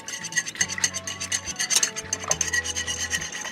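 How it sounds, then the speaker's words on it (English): A whisk beats casserole ingredients in a measuring cup, scraping in quick, rhythmic strokes that sound close and fairly loud, with a low tone humming underneath. "we're going to take the whisk and we're going to start putting this all together like this"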